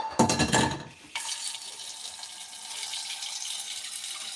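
Tap water running into a sink while preparing ceviche, a steady close splash that begins after a brief clatter and carries on without talk.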